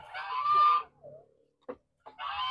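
Backyard chickens on a small home farm cluck in a few short bursts, a clear call, then a pause, a brief peep and another cluck, near and moderately loud.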